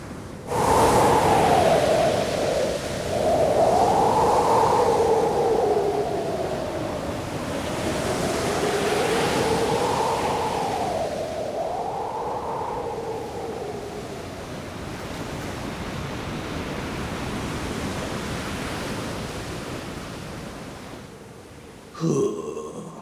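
Stormy night wind and crashing surf in an animated film, a loud, continuous roar with rising and falling gusts that howl and swell for over twenty seconds, ending in a brief sharp burst.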